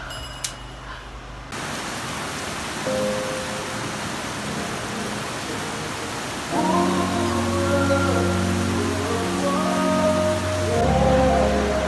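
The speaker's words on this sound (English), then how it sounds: "it is raining heavily" Heavy rain falls steadily at night, a dense, even hiss that runs through the whole stretch with no voices, with faint tonal hums layered underneath.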